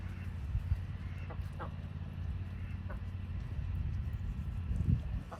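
Several chickens cluck in short, scattered bursts over a low, steady background rumble, fairly close by.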